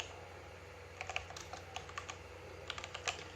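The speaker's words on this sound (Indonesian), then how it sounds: "teman-teman bisa ikutin apa yang saya ketikkan." Typing on a computer keyboard while configuring a server, heard as a scatter of light, close key clicks in short bursts over a steady low hum, with no talking.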